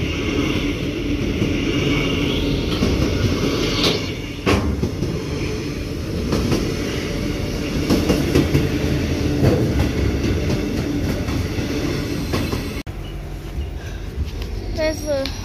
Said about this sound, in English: There's the other train.